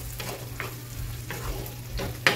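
Eggs frying in a pan while being stirred, a continuous close sizzle with a low steady hum beneath and soft periodic scraping strokes, ending in a sharper knock.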